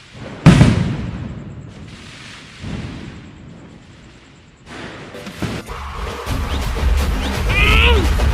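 A sharp loud bang of a Diwali firecracker bursts out, followed by crackling noise, more pops and rising commotion.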